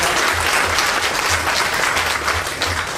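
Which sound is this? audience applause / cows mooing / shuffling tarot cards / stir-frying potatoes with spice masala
audience applause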